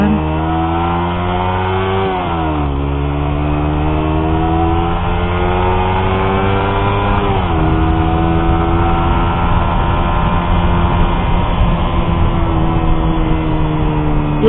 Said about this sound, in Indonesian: Padahal gasnya gue tarik loh. Itu gue tarik, RPM-nya gue mau naik